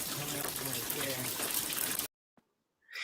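Water gushing hard from an indoor leak, played back from a phone recording: a dense, steady roar for about two seconds that cuts off abruptly, then a brief click and faint noise returning.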